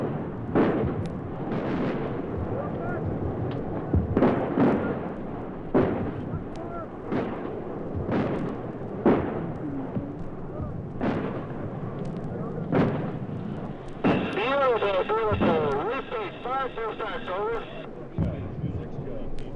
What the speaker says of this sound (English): But when artillery arrives, when it drops down Charlie's throat, it's the most beautiful,